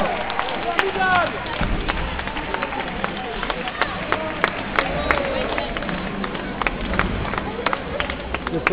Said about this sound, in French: on peut renouveler ces applaudissements